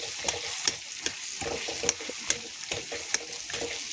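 A metal spatula mashes potato in a cooking pan of curry, giving a series of sharp, regular scrapes and taps about every half second over a soft, continuous sizzle.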